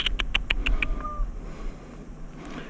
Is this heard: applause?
no